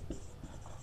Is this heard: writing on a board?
yes